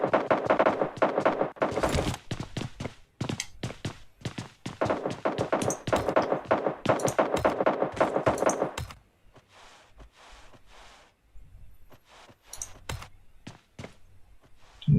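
Rapid bursts of video game gunfire crackle through the first nine seconds, dense and sharp like repeated volleys, then thin to a quieter stretch with occasional isolated shots.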